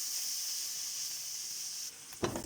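Onion and garlic sauté in a pan with a steady, close hiss of sizzling oil that suddenly cuts back near the end, followed by a brief stirring clatter.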